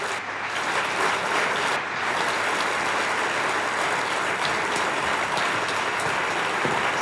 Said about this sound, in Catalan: un aplaudiment per Neus Ballús